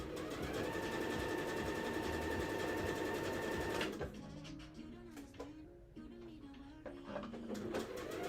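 A sewing machine stitches in a fast, even mechanical whir that stops abruptly partway through, leaving quieter room sound with a soft cooing bird in the background.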